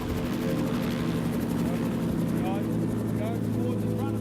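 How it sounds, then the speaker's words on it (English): A helicopter sits on the ground in the desert, its rotor and engine making a loud, steady drone that fills the whole stretch, with people talking over it. "So then when the chopper's on the ground, you guys will move around the front of the chopper to that side with Tom."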